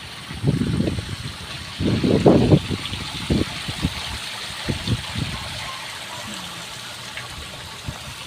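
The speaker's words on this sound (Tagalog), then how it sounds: "Yan po, may rain shower, oh." A rain shower falls at a cafe in Camarines Sur, with a steady, close hiss of water throughout and some irregular low thumps and bursts mixed in.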